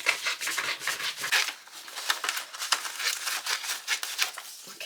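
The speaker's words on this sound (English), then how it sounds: "I'm just going to cut along there." Scissors snipping and rubbing through paper while cutting out a sewing pattern for a spring outfit, a close, continuous run of crisp rasping cuts and crinkles with no talk.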